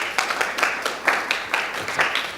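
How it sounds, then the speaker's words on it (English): Light applause from a small audience at a company presentation, scattered individual claps spread over a couple of seconds at moderate volume. "Let's give a big round of applause for Elle."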